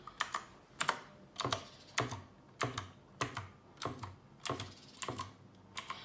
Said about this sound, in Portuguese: Esse é o som das peças desse teclado.